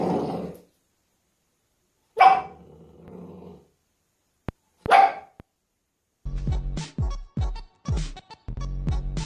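A dog gives a couple of separate gruff, growly barks with silent gaps between them, then breaks into a quick run of sharp, close barks at the end.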